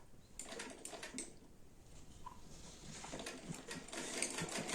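A sewing machine stitching the hem of a shirt, a faint, quiet whirring run of needle strokes that builds gradually and grows slightly louder toward the end, with no talking.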